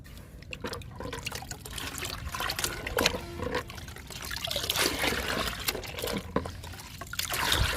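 Liquid trickles and splashes over wilting potted plants for several seconds, close by, in uneven pours.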